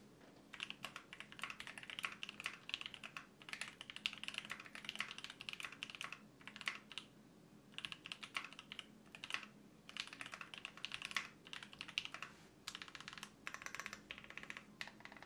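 Continuous typing on a Tofu65 DZ65RBG v3 hot-swappable custom mechanical keyboard, close and clear, with bursts of rapid keystrokes separated by brief pauses and no talking.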